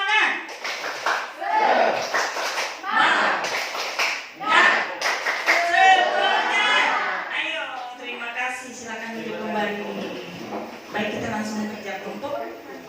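Group of teachers at an SMPN 1 Ketungau Tengah sharing session doing the rhythmic 'tepuk semangat' spirit clap, sharp claps in patterned bursts mixed with voices, then talk continuing.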